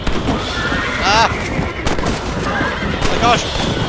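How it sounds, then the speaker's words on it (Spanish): Horses whinny in Red Dead Redemption, two distinct neighs about two seconds apart, amid gunfire, hoofbeats and talking voices. "¡El caballo!"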